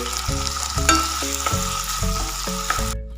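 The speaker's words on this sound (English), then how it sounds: "Saute the vegetables." Vegetables sauté in a hot pan for a Mexican rice and sweet and sour gravy dish, giving a steady, loud sizzle and frying crackle with no talk. Clinks of stirring recur over the sizzle, which cuts off abruptly near the end.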